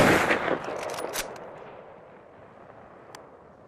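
Gunfire shooting up a pickup truck: a rapid burst of loud shots at the start, tailing off into fading echoes and a lone later crack.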